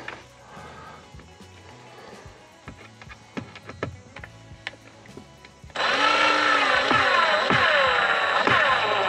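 Faint clicks and handling sounds, then a loud power tool kicks in driving a screw inside a camper van, running steadily to the end, its whine wavering slightly as it drives.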